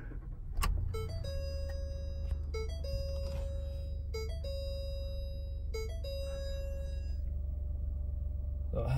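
A 2017 Ford Expedition with keyless entry cranks and starts, then settles into a steady low idle while repeated electronic chime tones ring out in evenly spaced bursts over the rumble.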